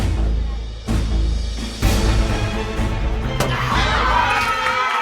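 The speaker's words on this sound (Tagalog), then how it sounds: "Tumahimik kayo para madinig niyo yung tunog ng putok ng lobo." Darts pop balloons a few times as sharp, sudden bangs during a lively game show. The pops are partly buried under a noisy crowd that is shouting and cheering.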